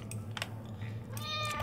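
A short cat meow rises near the end of the clip over a steady low hum, with a few soft clicks and taps before it.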